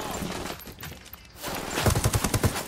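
Gunfire in Tom Clancy's Ghost Recon Wildlands: a burst of rapid shots crackling in quick succession after a stretch of game ambience, fairly close and moderately loud.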